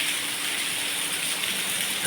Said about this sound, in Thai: ฝนตกเย็นชุ่มฉ่ำอยู่แล้ว